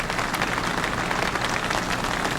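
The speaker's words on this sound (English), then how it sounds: "The swell of applause greeting this man as it has each man before him the last 90 minutes." A loud, dense swell of crowd applause at a Pennsylvania mine rescue site greeting a rescued miner, continuous and even, like heavy rain, with no voices rising above it.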